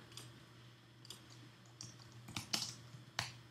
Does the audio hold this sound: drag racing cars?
no